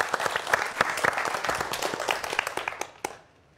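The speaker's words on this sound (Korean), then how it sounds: "노 교수님의 강연 박수로 청해 보겠습니다" Lecture audience applauding to welcome a materials engineering professor, a lively burst of crisp, distinct claps that thins out and stops abruptly near the end.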